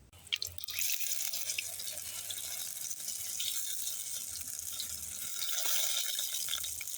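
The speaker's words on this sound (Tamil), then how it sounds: "இப்படியே ஊற்றி ஊற்றி நாங்கள் எல்லாத்தையும் பொரிச்சு எடுப்போம்." Thenkuzhal batter squeezed from a bottle with a hole in its cap into hot oil, producing a loud continuous hiss and sizzle of frying, close by and steady throughout, with a brief splash at the start and no talk.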